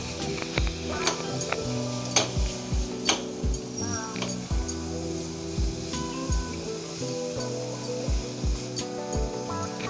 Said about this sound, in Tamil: லைட்டாக கலந்து விடுவோம்.